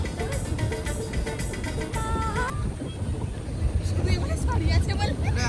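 A boat ride on the water at crowded Triveni Park in Kashiara, with a steady rumbling wash of motor and wind noise buffeting the microphone while several people talk nearby throughout.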